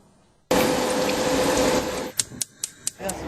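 A tap runs in a steady, loud broadband rush that starts abruptly, then stops and gives way to a few short splashes and drips, with no talking.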